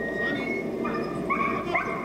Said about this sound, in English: Joe Deffy's dog is part of the family